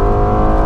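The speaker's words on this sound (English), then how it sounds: "This is the standard exhaust system" An Aston Martin Vantage with its standard quad-tip exhaust idles and revs with a deep, throaty exhaust rumble, loud and close, steady throughout the short moment.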